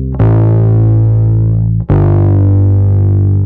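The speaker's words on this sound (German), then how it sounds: "das ist das Plugin von Logic, was hier mitgeliefert ist, einfach das Distortion-Plugin" A bass line goes through Logic's built-in distortion plugin, giving loud, thick, sustained gritty notes. There are two long held tones with a short break between them and no talking.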